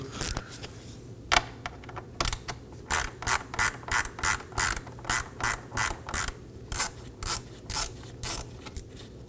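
A ratchet backs a T20 screw out of the grille mounting panel on a 2020s Toyota Corolla. A few scattered clicks open the sequence, then a regular run of about a dozen sharp, close ratcheting clicks follows in a steady rhythm.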